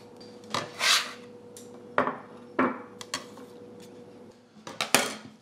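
Garlic being sliced with a knife on a cutting board: a handful of sharp, irregular knocks and scraping taps ring out close by, separated by short quiet gaps.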